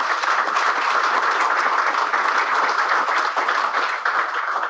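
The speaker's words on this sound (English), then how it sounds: "So with that, round of applause." An audience at the close of a workshop on mineral reserve reporting rules breaks into applause, dense continuous clapping that stays loud and even throughout with no talking.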